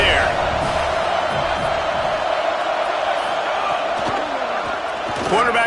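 Stadium crowd from the College Football 27 video game, Penn State vs USC, makes a continuous roar with scattered cheers throughout, while a commentator's voice runs over it.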